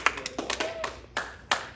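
Scattered, sparse clapping from a small audience at a birthday roast, a few hands tapping irregularly and fairly quietly, with no talk over it.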